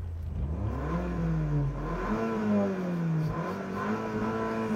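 A Porsche Macan SUV's engine revs up and holds a rising, throaty mid-pitched drone, steady and loud nearby, with no one talking.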